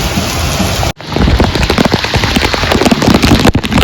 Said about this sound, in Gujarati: ફૂલ વરસાદ પડે છે